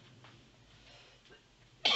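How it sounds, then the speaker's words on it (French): Near silence, then one sharp, loud cough bursts out at the very end. "Je m'excuse, je tousse"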